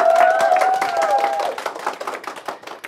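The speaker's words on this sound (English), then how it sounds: "let's applaud to her" An audience applauds for Alina, a participant thanked at the Diamond Challenge UA final pitch event at America House Kyiv, with dense clapping that is loudest at the start and thins out over about three seconds.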